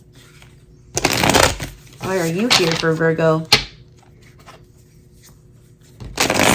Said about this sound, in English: I'm doing 3 shuffles and then 3 cards for Metamorphosis.